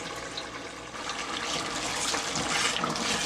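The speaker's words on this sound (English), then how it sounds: "My yam is ready. I just have to drain it out of the water." Hot water pours and splashes steadily as boiled yam is drained in a kitchen, a continuous close gushing that grows slightly louder toward the end.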